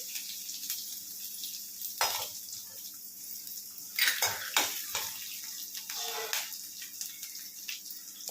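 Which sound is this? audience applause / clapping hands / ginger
ginger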